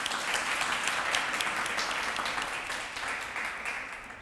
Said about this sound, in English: Would you please welcome her by way of applause?